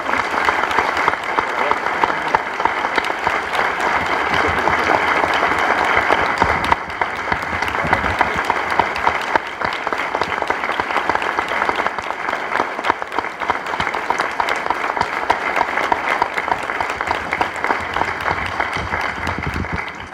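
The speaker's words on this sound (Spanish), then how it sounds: "Y que el aplauso sea para él," Audience applause after a book presentation on conventionality control, a sustained, steady round of clapping that carries on unbroken for about twenty seconds.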